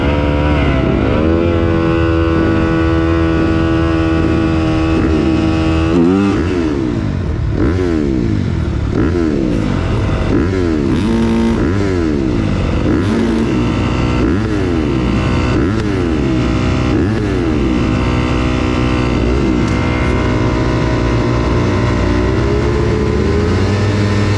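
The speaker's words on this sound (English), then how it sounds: "All that redlining and holding the throttle open and all of that, and I couldn't even get a good start." Several 250cc race motorcycles rev hard at a race start, first holding a high steady whine at redline. Then loud overlapping engine notes rise and fall through rapid gear changes as the pack pulls away close by.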